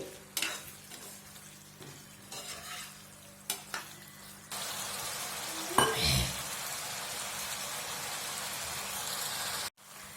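Spicy garlic chicken is stirred into masala in a hot pan, with a steady sizzle of frying and scraping stir strokes, close and continuous, then louder as the chicken cooks.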